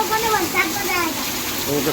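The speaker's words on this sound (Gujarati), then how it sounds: "જબરજસ્ત વરસાદ ચાલુ થઈ ગયો" Steady downpour of heavy rain during Janmashtami, a constant broadband rush of water on surfaces while people talk over it.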